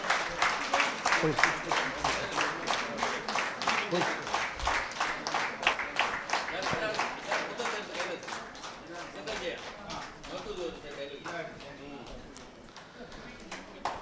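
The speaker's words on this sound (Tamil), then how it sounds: "நல்ல ஒரு கரகோஷம் கொடுங்க" An audience claps in a fast, even rhythm at a book release ceremony, a steady run of sharp hand claps that slowly grows softer and looser toward the end.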